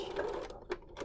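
A sewing machine makes a short burst of stitching on a fabric pleated mask, a close, dense mechanical chatter lasting about a second, with no voices.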